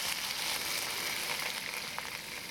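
Sweet potato leaves hitting a hot wok give off a soft, continuous sizzle and crackle of frying, fairly quiet and steady with no talk over it.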